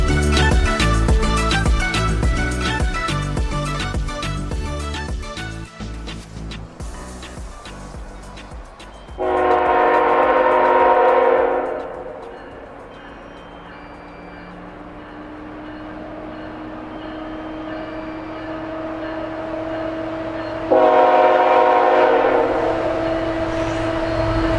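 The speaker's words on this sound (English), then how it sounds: "this train with mostly tankers on it passes us going west" A westbound freight train made up mostly of tank cars rolls past with a loud, steady rumble and clatter, and its horn sounds in two long, close blasts about ten seconds apart.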